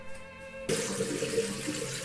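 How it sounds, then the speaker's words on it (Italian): Cold water running from a bathroom tap into a sink during a shaving session, starting abruptly after a brief quiet moment and then flowing steadily and close at a moderate level. "fatemi chiudere il rubinetto"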